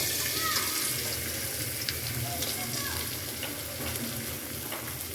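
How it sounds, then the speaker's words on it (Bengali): Onion frying in mustard oil gives a steady close sizzle and crackle, with faint scraping of a utensil in the pan and no clear talking. "দিয়ে দিলাম সরিষার তেল পেঁয়াজ"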